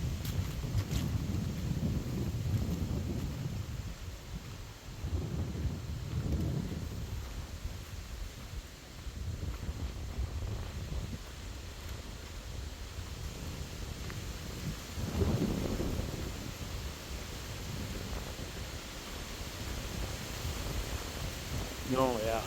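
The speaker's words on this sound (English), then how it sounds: "Oh yeah, wind." Wind gusting outdoors at a state park along a river, a broad low rumble that swells and fades in several gusts and buffets the microphone, with a voice talking at times.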